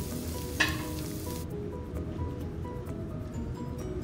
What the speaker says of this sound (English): fry for a minute. Add some shredded carrot.